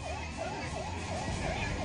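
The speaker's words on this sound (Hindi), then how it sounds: "काठमांडू की सड़कों पर एम्बुलेंस का सायरन गूंजता रहा" An ambulance siren wails in a rhythmic rising and falling cycle through the streets of Kathmandu after the 2015 Nepal earthquake, faint and distant beneath a dull background hum.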